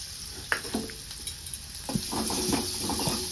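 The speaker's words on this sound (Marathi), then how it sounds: "त्या कढईमध्ये तेल ओतले, थोडासा ह्यातला कांदा टाकून घेणार आहे।" Chopped onion sizzling in hot oil in a small kadhai for tempering, a steady frying hiss with a few stirring scrapes, close and alone.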